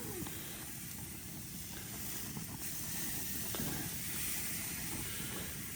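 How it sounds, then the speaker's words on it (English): Dexter and Angus steaks seasoned with salt and pepper sear on high heat, giving off a loud, continuous broad sizzle and hiss with no break. "we're going to throw them on high heat to give them a nice sear"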